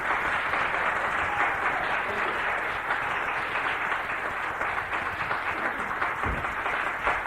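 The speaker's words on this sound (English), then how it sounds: "Give him a big round of applause." An audience applauding to welcome speaker Marshall Fritz, with steady, dense clapping from a full room that holds at one level throughout.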